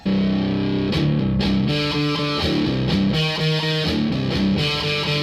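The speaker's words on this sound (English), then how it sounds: "The fact that it's also a distortion pedal makes it useful even if you don't use the feedbacker function" A distortion pedal with a feedbacker function, in the vein of a Boss turbo distortion, drives an electric guitar: loud, saturated chords and riffs play continuously, with choppy rhythmic stabs and sustained notes ringing through.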